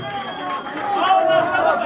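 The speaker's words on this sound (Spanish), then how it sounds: "Un aplauso fuerte." A crowd roars and cheers at a Peruvian freestyle rap battle (Batalla de los Gallos, heavyweight round). The noise swells from a steady rumble to a louder sustained roar across the whole stretch, with no voice on top.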